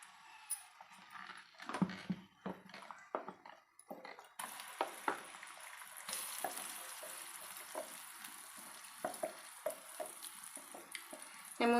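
Spices and asafoetida crackle and spit as they fry in a pan for a tempering, scattered sharp pops and sizzles alongside clinks of stirring, close and fairly quiet with no talking.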